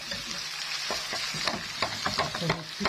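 Frozen minced meat frying with golden onions in a pan, a steady close sizzle broken by repeated sharp scraping strokes of a stirring spoon, with no talking.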